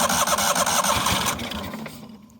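A neglected 1998 Yazoo YTKC22 three-wheel mower engine cranks and sputters at half choke, chugging loudly up close before fading and dying out.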